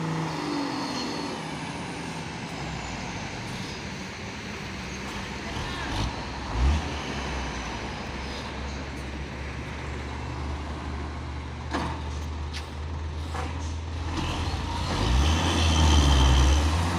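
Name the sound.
Fuso truck climbing a hill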